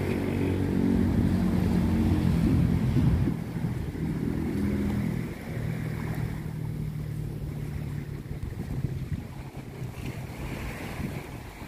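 Seaside waves along a Thai shore at Prachuap, near moored fishing boats, give a steady, loud wash with strong wind buffeting the microphone and low rumble throughout, with no talk.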